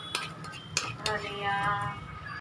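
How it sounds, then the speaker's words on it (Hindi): Khoa roasting in a pan for carrot halwa, with a spoon clinking and scraping against the pan in a few sharp knocks over a soft sizzle. "अब ये खोआ भून रही हूँ गाजर के हलवे के लिए"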